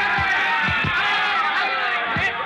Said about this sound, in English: the thud of their punches echoing dully above the roar of the crowd